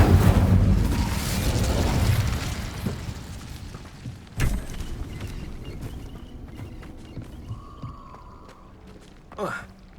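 A fire spell cast in the Hogwarts Legacy video game, a loud whooshing burst that opens the clip and fades over a few seconds. Sharper magical hits follow later.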